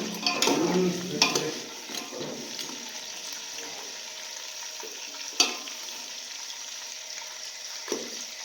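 Prawn pieces fry in oil for a prawn masala curry, a soft steady sizzle with a few louder stirring scrapes near the start and isolated clinks later.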